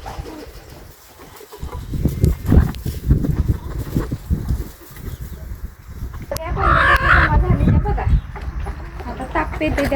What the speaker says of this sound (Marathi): झाल्या जमा सगळ्या कोंबड्या बघा.